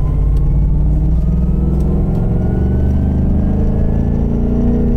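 A Ford Mustang Bullitt's V8 engine accelerates on a racetrack, a loud, continuous close engine roar with rising pitch through the whole stretch and no talking.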